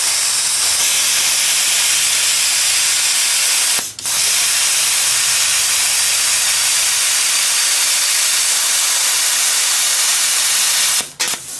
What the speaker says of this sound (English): The plasma cutter is set at a little over 30 psi